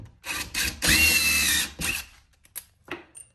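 A power drill bores holes into a pallet, running loud and close in several bursts of whirring with short pauses between them and a few trailing clicks.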